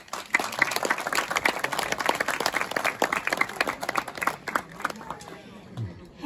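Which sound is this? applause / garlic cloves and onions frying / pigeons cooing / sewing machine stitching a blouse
applause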